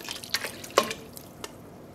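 Water poured from a cup onto dyed yarn lands in a few soft, close splashes and drips, then quietly trickles away.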